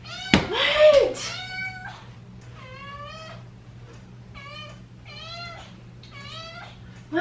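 A mother cat who has just had a litter of kittens meows repeatedly and close by, about six drawn-out calls in a row, after a sharp knock at the start.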